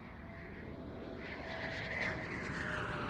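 A Saab Gripen fighter jet at an airshow makes a faint, distant roar that swells slightly as it goes on, with a steady engine drone over broad background noise.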